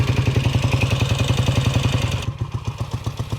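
A 1967 Kawasaki W1 650 twin idles close by with a steady, lumpy pulse and mechanical clatter, pulling back slightly partway through and settling into a lower, quieter idle.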